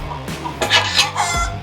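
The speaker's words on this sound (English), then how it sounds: "that's my next door neighbour's chickens" A few hens cluck and murmur close by, short throaty calls coming in small bursts over a low background hum.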